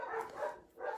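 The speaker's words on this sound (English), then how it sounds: "I don't know what the heck they're barking at." A few quick dog barks, somewhat distant and muffled, two close together and then another after a short gap.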